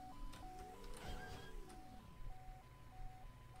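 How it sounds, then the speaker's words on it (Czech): In the video game GTA London 1961, an ambulance siren wails in a two-tone alternating pattern. It is moderately distant and continues steadily, and a low swooping engine or vehicle sound passes through the middle. "Něco tam houká, to vypadá jako sanitka"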